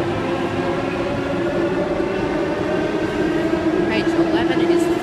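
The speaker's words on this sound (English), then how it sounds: "Tangara arriving on platform 2 for a Schofield service" A Sydney Trains Tangara electric train pulls into a station platform with a steady loud rumble, a motor hum and a faint wheel squeal near the end, while station announcements or voices sound underneath.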